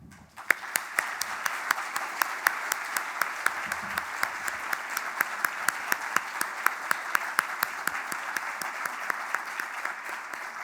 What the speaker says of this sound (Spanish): me gustaría pedir un aplauso muy fuerte para todo el personal de salud que tanto hizo en esta pandemia